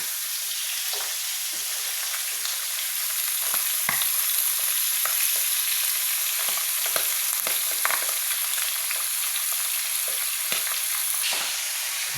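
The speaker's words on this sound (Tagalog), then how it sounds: "Matalamsik yung mantika po eh." Cooking oil spattering as food fries, a continuous close sizzle punctuated by sharp pops and crackles throughout, with no voices.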